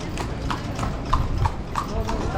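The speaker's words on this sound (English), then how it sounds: "Look at all the horses walking by." Horses' hooves clip-clop along a city street in Merida, Mexico, a brisk irregular series of sharp clacks from several animals passing close by, with people talking in the background.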